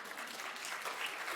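Faint, steady applause from a conference audience during a morning plenary session, a brief continuous patter of clapping heard from a distance.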